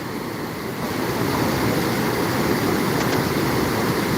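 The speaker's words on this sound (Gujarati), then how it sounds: "આ તાપી નદીના ધસમસતા પ્રવાહની અંદર જ તે અત્યારે એટલો ઘોંઘાટ છે" The flooded Tapi river near Surat rushes past with a dense, roaring wash of water, loud and continuous throughout with no voices.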